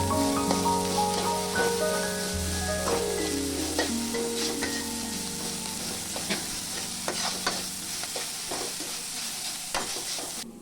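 Turmeric-seasoned leafy greens sizzle in a frying pan while they are stirred, with repeated scraping strokes and soft taps over a steady crackle, close up and without talk.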